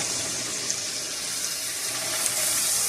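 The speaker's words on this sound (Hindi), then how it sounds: "इस मसाले में थोड़ा सा पानी ऐड कर दें ताकि मसाला जो है वो जले नहीं।" Water poured from a tap-like stream into a masala paste in a cooking pan, a steady hissing gush that runs throughout at moderate loudness with no talking.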